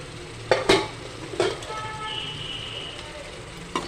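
Onion, tomato paste, green chilies and eggplant frying while being stirred in a pan, a soft steady sizzle broken by a few loud utensil clanks against the pot.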